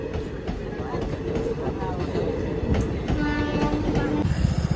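A train rumbles past close by with a rhythmic clatter of wheels and a sustained horn-like tone near the end. Faint voices sit under the noise.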